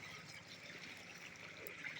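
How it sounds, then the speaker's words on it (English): Floodwater flows steadily through a flooded residential estate in Syokimau, Nairobi, a continuous close trickling and rushing wash with no speech. "Let me locate the source of this water"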